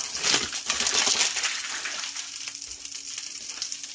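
Kagoshima wagyu steak sizzles in a hot pan with butter, a close, steady hiss and crackle of fat that eases slightly toward the end, with no talking.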